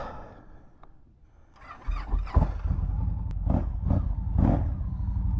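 A 2012 Victory Vision motorcycle engine cranks and catches after a quiet opening, then settles into a steady, close, throaty idle with a few light blips of the throttle.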